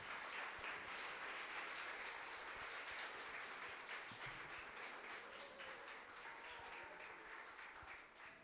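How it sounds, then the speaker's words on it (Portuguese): A church congregation applauds the youth group in a continuous, fairly faint wash of many hands clapping that holds steady throughout and tapers slightly at the end. "recebendo o grupo de jovens, aplaudindo mais forte"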